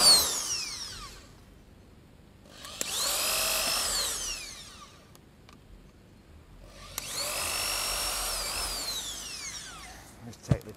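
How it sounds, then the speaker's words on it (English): Two long bursts of a high-pitched power drill whining into thin pallet wood slats, drilling pilot holes, separated by a quiet pause, with small clicks and knocks at the edges. "Just take the time to put a drill in."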